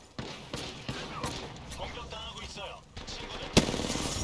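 Video game gunfire in Apex Legends on the World's Edge map sounds as scattered sharp shots, ending in a louder burst. A player talks over it.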